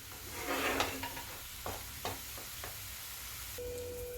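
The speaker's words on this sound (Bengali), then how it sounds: "মশলাটা আমি ভালো করে কষিয়ে নিচ্ছি" Spice masala for chicken bharta fries quietly in a pan, a low sizzle under a few soft scrapes and knocks of a spoon stirring the paste.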